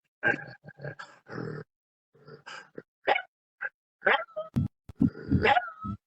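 A human voice imitates a dog's barking, making a series of short gruff woofs with a vibrating tongue, close and fairly loud, in uneven bursts separated by brief pauses.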